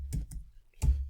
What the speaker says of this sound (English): I've just got to type that